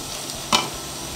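A spatula scrapes once through cabbage stir-fry in a hot pan over a steady background sizzle, a single brief stroke standing out close and clear.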